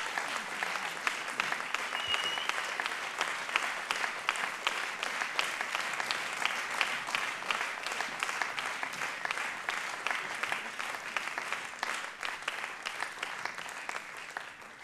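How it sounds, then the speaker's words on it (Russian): A studio audience at a Russian talk show breaks into loud, dense applause that holds steady and unbroken for about fifteen seconds, with no voices rising above it. "Давайте под бурные аплодисменты проводим."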